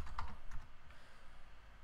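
Terminal commands typed on a computer keyboard, a short burst of a few close, soft key clicks fading into quiet room tone.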